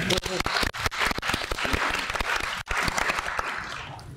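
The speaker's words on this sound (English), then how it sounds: "I think that deserves a round of applause" A conference audience breaks into applause, loud dense clapping from many people close by, with individual sharp claps distinct throughout and a couple of brief dips.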